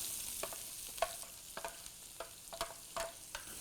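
Cumin, ginger, green chili and onion frying together in a pan for Mumbai street-style chicken keema, a faint low sizzle with several distinct spatula clinks and scrapes at irregular intervals.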